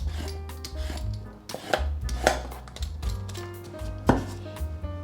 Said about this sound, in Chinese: 把红萝卜切成厚片状，把红萝卜切成丁状